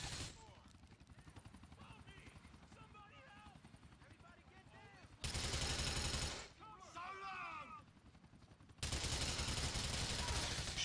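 Gunfire in Grand Theft Auto IV comes in two loud sustained bursts of rapid shots, the first lasting about a second and the second running several seconds, over a busy scene with overlapping voices.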